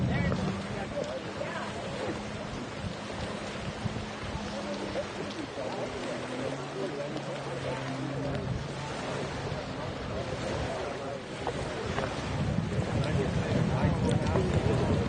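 GP race boats drone over Lake Havasu, their engines distant and wavering beneath wind, with an announcer talking over the sound throughout.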